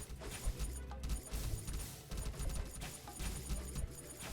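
Magic missiles fire in a dense, continuous barrage of overlapping impacts and crashes during a Darkchaser Battletide fight against goblins, busy and unbroken with no voices.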